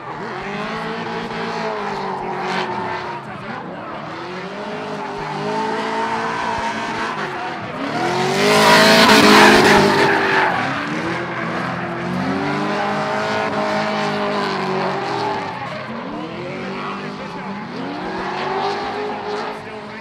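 Red Nissan S14 and gray BMW E36 drift cars battling at Raceway Park: steady, loud engine roar with rising and falling revs, swelling into a harsh burst of tire squeal and skidding midway before settling back to sustained engine drone.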